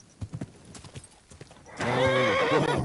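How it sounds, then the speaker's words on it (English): Horse in Kingdom Come Deliverance 2 gives a few soft clip-clop hoofsteps, then a loud, drawn-out whinny that rises and falls over the last second. "Easy, good horse."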